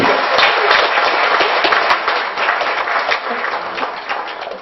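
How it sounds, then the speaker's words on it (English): An audience at a programme session in Hyderabad gives the moderator a big round of applause, loud and dense at first, then thinning gradually as the clapping tapers off. "I would like to have a big round of applause for him."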